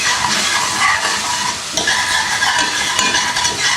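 Spices and coriander seeds stirred in a hot pan for palak paneer, a loud continuous sizzle with scraping stirs, close and steady throughout with no talk.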